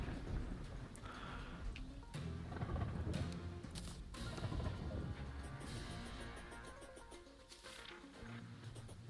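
Acid rain in the video game Terraria Calamity, a steady wash of rainfall with low rumbling swells, continuous and moderately loud throughout.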